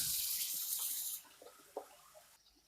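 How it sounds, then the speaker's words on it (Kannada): Water is poured into a pan of egg masala with chilli, turmeric and coriander powder, a bright rushing pour that stops after about a second, followed by faint splashes and a light knock. "1-2 ಗ್ಲಾಸಷ್ಟು ನೀರು ಹಾಕ್ಕೊಳ್ತಾ ಇದ್ದೀನಿ ಇದಕ್ಕೆ."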